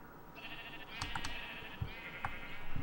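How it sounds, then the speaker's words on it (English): In Minecraft, a sheep eating grass gives a short bleat and chewing sounds, faint and close, over a few soft keyboard clicks and no talking. "The sheep just ate grass."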